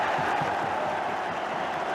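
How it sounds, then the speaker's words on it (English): Rapturous applause and crowd noise from football fans at the Victoria Ground during Stoke City versus Arsenal, a steady dense roar of clapping filling the stadium without a break. "Rapturous applause around the Victoria ground"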